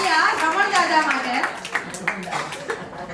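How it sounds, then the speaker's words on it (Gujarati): A crowd at a baby shower applauds Raman dada with scattered claps under loud, overlapping talk and cheering. "જોરદાર તાળીયા રમણ દાદા માટે"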